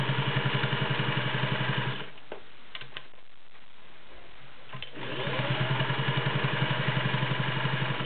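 A Singer Touch & Sew 603E all-metal gear-drive sewing machine stitches through six layers of denim with a fast, even mechanical chatter, pausing for about three seconds midway with a few clicks before running again.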